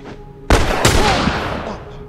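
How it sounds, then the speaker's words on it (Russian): A newly acquired shotgun in The Last of Us fires two loud, close blasts about a third of a second apart, each a sharp crack followed by a long rumbling decay. "давайте испытаем, наверное, ружьишко новое"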